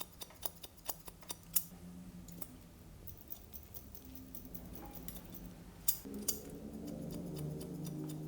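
Barber's scissors snip through hair in a quick run of close, crisp clicks, then fade into a low steady room hum with occasional light metallic taps.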